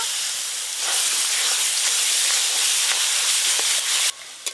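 Ground cumin, coriander, chili powder and salt fry in a little oil for chole, giving a loud, continuous hiss and crackle close by that cuts off abruptly near the end.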